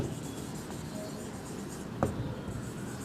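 Pen or marker strokes scratch steadily across a writing surface while a topic heading for a Class 10 biology lesson on blood flow through the heart is written out, close and soft, with one sharper tap midway.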